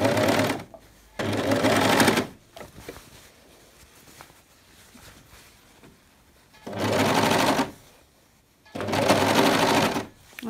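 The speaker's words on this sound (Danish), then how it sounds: "Og så kører jeg stille og roligt rundt i cirklen her på min overlocker." Three-thread overlocker stitching around a circle of fabric, four bursts of rapid mechanical whirring separated by pauses with faint handling noises.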